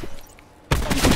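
A single loud sniper rifle shot from an online video game, a sharp onset after near quiet followed by a sustained roaring tail, close and alone.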